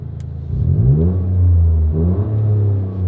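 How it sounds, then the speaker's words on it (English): A Toyota GR Corolla engine revs from idle with the exhaust valve open, climbing to a loud, throaty roar and holding around 5,000 rpm with a deep exhaust rumble. "I'll rev it up to what, 5 grand?"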